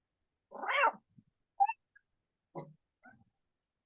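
A domestic cat meows once in a long, clear call, followed by several shorter, softer chirps and mews spaced out over a few seconds, close and alone with no talking.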